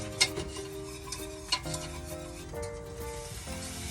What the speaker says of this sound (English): I'm gonna whisk that down and cook that flour to get the raw flour taste out of it